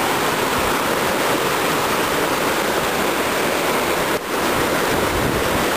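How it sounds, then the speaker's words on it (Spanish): Jequetepeque river water rushing at a confluence with streams from Contumazá, a loud, steady broadband roar of flowing water close by, unbroken for the whole stretch apart from one brief dip. "justamente aquí confluye el río Jequetepeque con las aguas que vienen de Contumazá"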